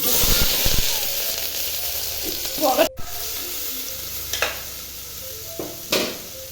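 Onions sizzle in a hot pan for chicken curry, a bright hiss that is strongest early, then quieter with a sharp clatter near three seconds and a few scattered stirring knocks.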